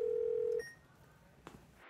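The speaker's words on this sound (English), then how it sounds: "Your phone is ringing." A telephone gives a short, loud electronic tone that cuts off after about half a second, followed by quieter faint beeps and a soft click, in an indoor scene.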